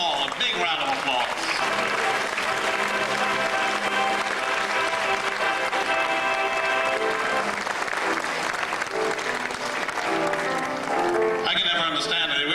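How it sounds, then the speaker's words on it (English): Sustained crowd applause at the 2000 Ms Senior DC Pageant, recognising the past titleholders, rolls on steadily with music or room noise mixed in. A voice cuts in near the end. "Let's give them all a big round of applause."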